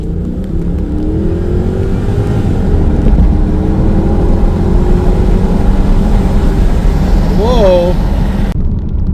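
An early Jaguar XK8 with the 4.0-litre engine accelerates hard from a standing start. Its engine note rises loud and steady through the gears from the cabin, and a voice exclaims near the end.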